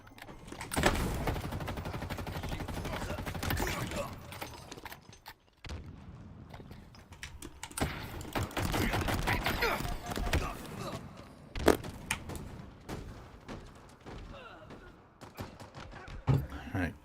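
Gunfire in the Halo video game, dense rapid bursts of automatic shots and blasts filling most of the stretch, loud and close, with a short lull midway and voices talking underneath.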